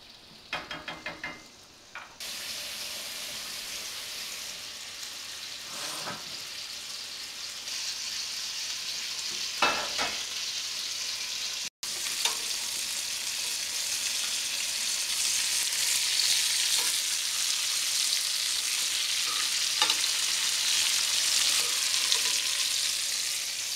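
Arrabbiata sauce for penne bubbling and sizzling steadily in a pan, a continuous close crackle with a few scattered knocks of a utensil against the pan, no voices.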